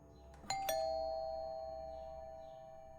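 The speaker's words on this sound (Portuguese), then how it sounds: "nesse momento, a campainha começa a tocar também" Two chimes from a doorbell in the horror video game Fears to Fathom: Home Alone ring close together, then a long bright tone decays slowly over a low ambient hum.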